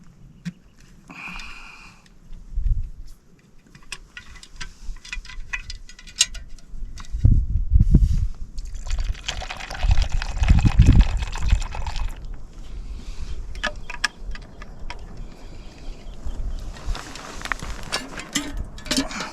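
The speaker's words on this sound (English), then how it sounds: "And then a wee bit of Kentucky's Finest to finish this off." Kentucky bourbon poured into a mixed drink at a primitive campsite, a few soft liquid splashes and trickles amid quiet outdoor background noise.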